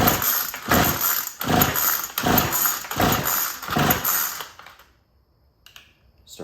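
A Troy-Bilt four-stroke edger engine with a brand new carburetor runs loud and close in a steady pulsing rhythm, then cuts off abruptly into near silence with a few faint clicks.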